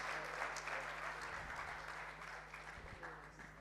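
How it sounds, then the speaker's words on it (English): An audience claps for speakers at the close of a panel discussion, a fairly soft and steady wash of applause with a low hum underneath and a few faint voices murmuring beneath it. "I think they deserve a bigger round of applause"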